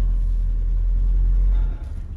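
A 1982 Datsun 720 Sports Truck idles low and rumbly while backing up, a heavy close engine drone that eases off near the end.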